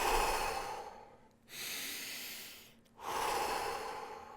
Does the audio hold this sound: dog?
no